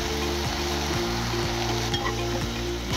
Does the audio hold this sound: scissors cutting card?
no